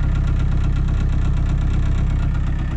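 A VW Caddy engine idles after a cold start, a loud, steady low rumble with a fast even pulse running throughout, recorded close up with no voices.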